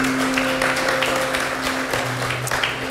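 A church congregation applauds for Jerry during a Sunday service, a steady wash of clapping lasting the full few seconds at moderate loudness, with a low sustained tone running underneath.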